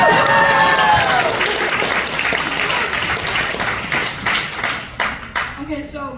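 A horror film festival audience at a Terrifier Q&A bursts into applause, dense clapping with some cheering that slowly tapers, a voice speaking as it dies down.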